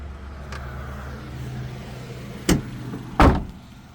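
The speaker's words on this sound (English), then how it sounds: "just listen at that motor. It's just sitting there, purring like a kitten." A Suzuki dump truck engine idles with a low, steady hum, interrupted near the end by two sharp knocks.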